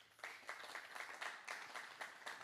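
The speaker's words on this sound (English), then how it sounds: "Let's give her a round of applause." Faint, distant clapping from a small audience at a community forum event, heard as a steady series of rhythmic claps at roughly even intervals with no talk over it.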